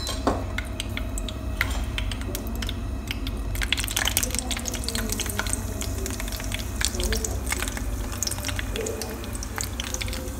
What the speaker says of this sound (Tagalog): iprito na natin yung saging na turon